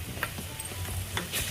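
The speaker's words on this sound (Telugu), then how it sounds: "ఇప్పుడు ఇందులో అల్లం వెల్లుల్లి పేస్ట్ వేసుకుందాం." Ginger garlic paste frying in a pan with onions, a soft sizzle with a few light stirring scrapes over a short moment, quiet and close.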